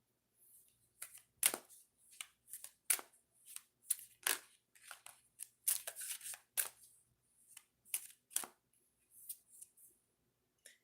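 Oracle cards are shuffled and drawn, a close and quiet series of crisp riffling and slapping bursts in an uneven rhythm with short pauses between them, and no talking.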